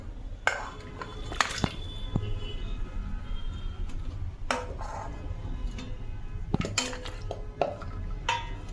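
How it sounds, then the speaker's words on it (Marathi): Pieces of washed mutton drop into a pressure cooker with several sharp metallic clanks and clinks of utensils against the pot, spaced irregularly over a quiet kitchen background. "तो मटण टाकले आपण कुकर मध्ये"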